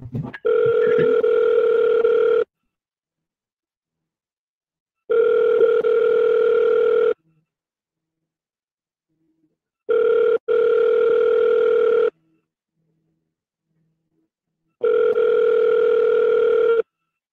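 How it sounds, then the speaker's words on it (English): A phone call rings out on the line, four long steady ringback tones separated by silent gaps, loud and clear with no talking over them. "We will double dial."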